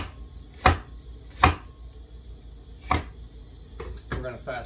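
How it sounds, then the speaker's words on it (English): Knife chopping an onion on a board in a home kitchen while cooking beef stroganoff: a few spaced, sharp chops, then quicker cuts near the end over faint background hum. "So you want to chop up your onion."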